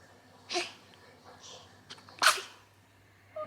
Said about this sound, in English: Did you have a big sneeze?